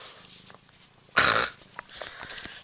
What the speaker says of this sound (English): Cat. Stupid cat.